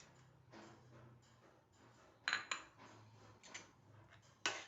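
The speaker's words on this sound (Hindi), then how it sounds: "बैंगनों को मिक्स करना है दही में अच्छी तरह।" A spoon scrapes and clinks against a bowl while mashed eggplant is stirred into curd for raita, soft repeated stirring with a few sharper metallic taps, close and quiet, no voices.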